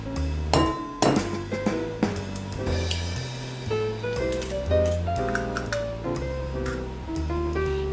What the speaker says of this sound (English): Crack the egg into the bowl and whisk it until the white and the yolk are one uniform mixture.